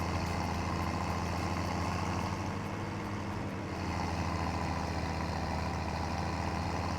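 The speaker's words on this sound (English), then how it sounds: "the main reason I wanted to use the gearbox mod is because it makes some of the tractors just sound really nice" Tractor engine running with a gearbox mod in Farming Simulator 17, a steady low droning rumble that holds throughout without a break, loud and continuous with no voice over it.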